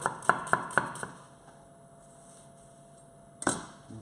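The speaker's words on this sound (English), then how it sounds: "we're going to chop the onion nice and fine" Knife chopping a red onion finely on a board, four quick crisp chops in a row near the start, then a pause and a final sharper chop, close and fairly quiet with no talking.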